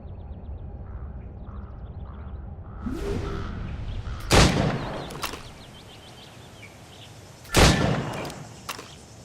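Gunshots at shooting targets in a video game, two sharp loud reports several seconds apart over quiet ambient game sound and distant bird-like calls.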